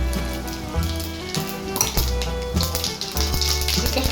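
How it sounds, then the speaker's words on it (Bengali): Bay leaf, dried red chilli and cumin seeds tempering in hot oil, a loud crackling sizzle broken by stirring clatter and music underneath, no voices. "এখন এই তেলের মধ্যে এরকম একটা তেজপাতা ছিঁড়ে নিয়ে ফোড়ন দেবো, একটা শুকনো লঙ্কা ছিঁড়ে নিয়ে ফোড়ন দেবো, একটু জিরে ফোড়ন দেবো"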